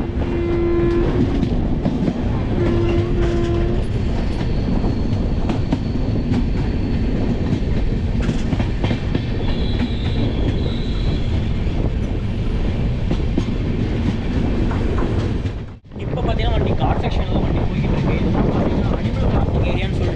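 The Tamil Kasi Sangam Express from Perambur to Varanasi rumbles steadily along the rails at about 40 to 50, with a continuous clatter, a brief horn-like tone early on and a short dip near the end, under faint talk.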